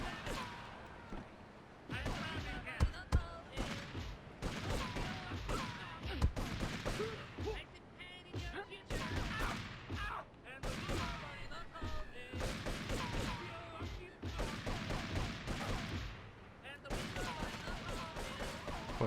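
Rapid bursts of gunfire crackle and pop almost continuously in Grand Theft Auto III, loud and dense with brief gaps, while someone talks over the shooting.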